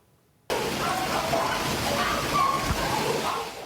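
Floodwater pours steadily into a dog kennel during a torrential rainstorm, making a continuous rushing, sloshing wash that starts abruptly after a moment of quiet and stays loud and close throughout.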